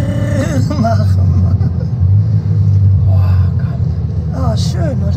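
A Bugatti Chiron driving past with a deep engine rumble and rising revs, heard fairly close while people talk over it throughout.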